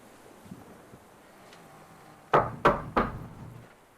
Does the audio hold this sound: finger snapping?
no